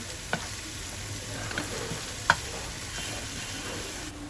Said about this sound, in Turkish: Soğanlarımı şöyle bir çeviriyorum. Yağda. 1-2 dakika kavuruyorum.